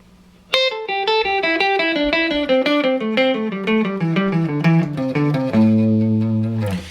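An electric guitar with effects plays a fast, even pentatonic scale sequence of single notes moving steadily down, ending on a sustained low note.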